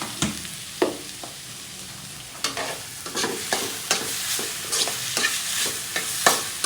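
Mung beans and shrimp paste are sautéed in a pan, with a soft sizzle beneath repeated close-up scrapes and clacks of a spoon stirring against the pan at an irregular pace.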